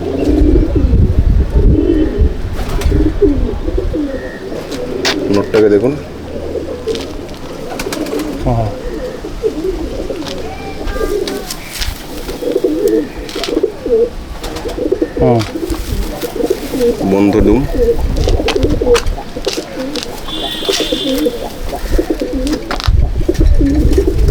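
Madrasi pigeons coo in repeated throaty bursts at a Howrah loft, close and fairly loud, with someone talking intermittently over the birds.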